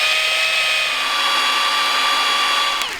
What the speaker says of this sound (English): We're using the same jig that we built in order to drill the beam